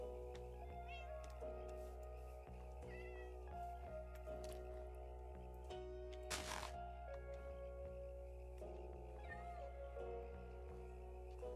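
Minecraft cats let out several meows and yowls, some clearly drawn out, over a constant low hum and soft game sounds, with a short burst of noise midway through.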